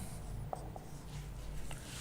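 A single word is written on a board, soft continuous rubbing strokes with a few light taps, close but quiet over a steady background hum.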